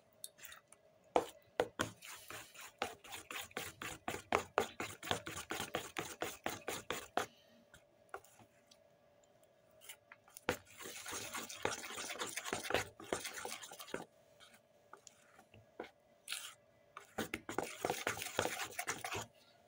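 Butter being beaten into vanilla cake batter, a rapid steady tapping of the whisk against the bowl in long runs with short pauses between them, close and fairly clear.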